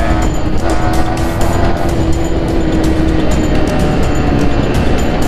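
A Yamaha R15 motorcycle engine runs steadily in third gear on a road, a loud, continuous roar with dense wind noise and no speech.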